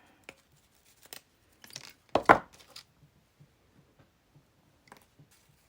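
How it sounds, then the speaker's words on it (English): Paper being cut for handmade faded flowers and leaves: quiet, sparse snips and crisp rustles, with one louder cluster of cutting in the middle, otherwise near silence. "And then I think I will cut this."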